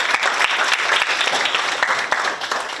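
Applause from an audience welcoming a guest at the launch ceremony of the 22nd San Francisco council of the Korean Peaceful Unification Advisory Council, steady dense clapping filling the room throughout.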